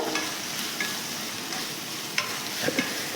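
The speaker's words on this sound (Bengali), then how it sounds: "তার ভেতরে আলু আর গাজর ছোট ছোট করে কেটে রেখেছি সেটা দিয়ে দিলাম" Small diced potatoes and carrots fry in a pan, a constant near sizzle punctuated by several sharp scraping and clinking stirs of a spatula, with no talk.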